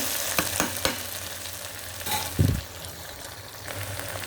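Toor dal and Malabar spinach fry in a pan, a low continuous sizzle with a few quick spatula taps and one louder scrape near the middle.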